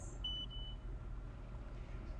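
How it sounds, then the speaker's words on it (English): A single short electronic beep from a water level meter as its probe touches water in a well, thin and high-pitched, lasting about half a second over a steady low hum and faint background rumble. "it completes the circuit, and you'll hear a beep like this"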